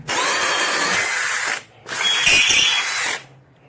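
A DEWALT DCD805 cordless brushless hammer drill spins an Irwin Speedbor self-feeding bit through wood, making two loud, steady bursts of whirring bore noise about 1.5 and 1.3 seconds long, separated by a brief pause.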